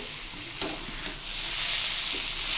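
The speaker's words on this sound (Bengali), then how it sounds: "একটু এবার নাড়াচাড়া করবো।" Eggs being stirred into spice masala in a pan, a close, even sizzling hiss with a couple of soft scrapes, short and continuous.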